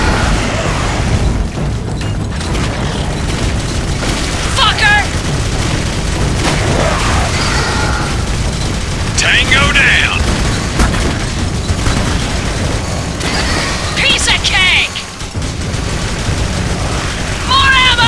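Gunfire and explosions from the shooter video game Jericho during a boss fight, a dense continuous barrage of shots and booms with voices shouting over the combat throughout.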